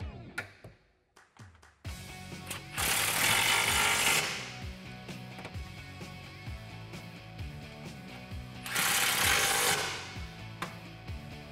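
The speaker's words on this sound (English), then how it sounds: "Now we can tighten up the 13 millimeter bolts holding the hangers to the subframe." Power tool or ratchet tightening the 13 millimeter bolts that hold the exhaust hangers to the subframe of a 2018-2020 Mustang GT during a cat-back exhaust install, two loud sustained bursts with clicks and clanks between them.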